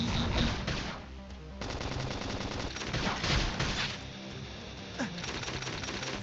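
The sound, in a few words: gunfire in video game Xenoblade Chronicles Definitive Edition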